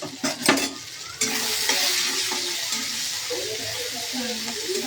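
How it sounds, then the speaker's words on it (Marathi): Okra fries in hot oil with cumin, curry leaves, garlic and chili. Stirring clatters against the pan at the start, then a sustained loud sizzle takes over. "भाजून घ्यायची तेलात."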